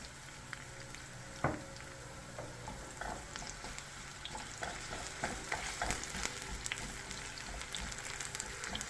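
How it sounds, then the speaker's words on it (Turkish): Potato pieces fry in a shallow layer of oil in a pan, giving a quiet, steady sizzle dotted with small crackles and pops, with no voices. "Patateslerimizi de bu şekilde kızartacağız."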